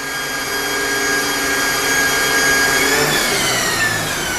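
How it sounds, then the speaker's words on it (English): A Jarvis hydraulic motor runs steadily under full load on a dynamometer test stand, giving a loud, continuous whine with a high tonal hum that shifts pitch slightly partway through. "It passed no load, now it's running full load."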